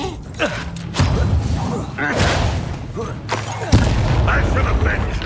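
Confringo and Bombarda spell blasts in the video game Hogwarts Legacy land as heavy booming thuds and impacts, roughly one every second, over shouted voices and combat noise.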